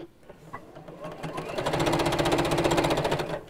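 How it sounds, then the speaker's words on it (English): A sewing machine stitches fabric pieces for a box cushion cover, starting slowly and then running in a fast, even, rhythmic burst up close for about two seconds. "Sew those together."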